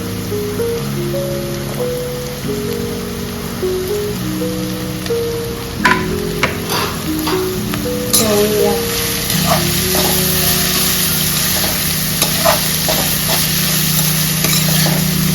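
Shredded cabbage stir-fries for a quick desi Chinese dish on a high gas flame, with a loud steady sizzle and scraping stirring strokes over a background of tonal music.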